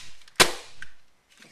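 A WE XDM 40 airsoft pistol is dry fired with a mag block fitted, producing one sharp, loud snap of the slide cycling, followed by fainter mechanical clicks.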